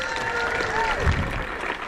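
Audience applause at a jousting tournament in Arundel, a short burst of steady clapping from a crowd heard under someone speaking over a loudspeaker.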